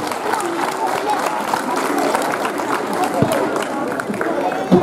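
Applause from a crowd at a Grodzisk Cup 2018 tournament ceremony, steady and dense throughout with a background murmur of voices and some movement.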